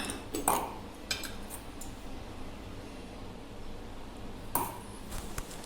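Dishes and utensils clink now and then in a kitchen being cleaned, with a full tub of utensils waiting to be washed, a few sharp bright clinks standing out over a steady low hum and quiet background.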